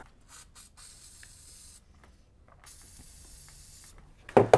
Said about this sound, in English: Let's spray some terminal protectant on there